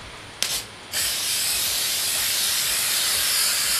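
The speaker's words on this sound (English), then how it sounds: "I'm just gonna spray it" Aerosol spray can hissing onto a Silhouette or Cricut cutting mat, a short burst and pause followed by a steady, loud continuous spray that lasts to the end.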